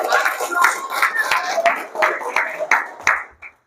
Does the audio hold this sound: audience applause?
yes